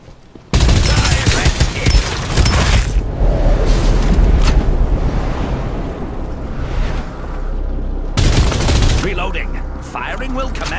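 Gunfire in the battle-royale video game Farlight 84 on PC, loud rapid bursts and sustained fusillades up close, with a pause in the middle and a fresh burst later, faint game voice lines under it.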